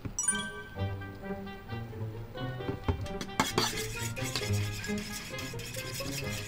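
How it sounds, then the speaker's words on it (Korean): A fork beats two eggs with a splash of grapefruit-flavored sparkling water in a bowl, giving quick, steady clinks and scraping against the dish, fairly close and continuous, with no talk over it. "이게 탄산수를 조금만 넣고 거품이 날 때까지 포크로 저어주네요."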